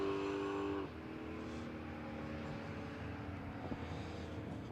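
Jeep Gladiator drag racing down the strip at Palmyra Raceway, a distant engine drone that fades and steadies into a low continuous rumble.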